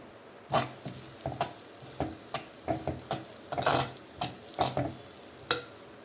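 Chopped medium onions frying with cumin in hot oil, a steady close sizzle broken by repeated scraping stirs of a spoon in the pan, no voices.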